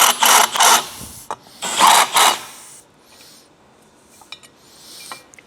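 A drill spins a 90-degree countersink to chamfer a bolt hole in metal, with two short bursts of grinding and cutting followed by quieter clicks and handling sounds.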